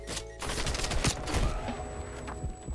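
Rapid automatic fire from a FARA 83 rifle in Black Ops Cold War, a dense stream of close, loud shots with sharp cracks throughout.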